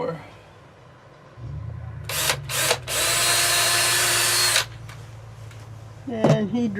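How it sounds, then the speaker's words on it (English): A power drill boring a small pilot hole for screws while cup hooks for Christmas lights are installed, a motor whine in short bursts and then one longer sustained run, close by, with voices briefly at the end. "he drills a little teeny pilot hole so he can get the screws in easier"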